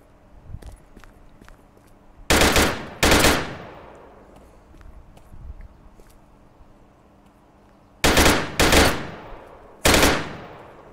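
Bursts of gunfire in the Virtual Battlegrounds VR video game, five loud cracking shots in two clusters with lighter clicks and footsteps between them, fairly close.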